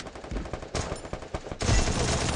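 Rapid bursts of Thompson submachine gun fire ring out in the mobile shooter Garena Free Fire, sharp crackling shots in quick strings, broken by brief gaps, then a denser sustained volley to finish.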